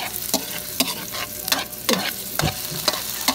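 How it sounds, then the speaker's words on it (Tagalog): Garlic and onion sauté in a pan, with a steady sizzle broken by sharp, repeated scrapes and clacks of a utensil stirring at irregular intervals, close and fairly loud with no talk. "Mag-gisa tayo ngayon ng bawang,"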